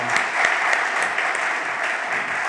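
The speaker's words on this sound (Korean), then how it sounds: "우리 박수 부탁드립니다" A church congregation bursts into applause at a missionary send-off service, a loud, dense clapping close by that stays steady throughout.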